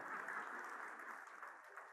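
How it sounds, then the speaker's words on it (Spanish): Church congregation clapping during a Spanish-language sermon, a faint, distant, even patter of many hands that carries on steadily and eases slightly toward the end. "Un aplauso para ese ladrón tan honesto."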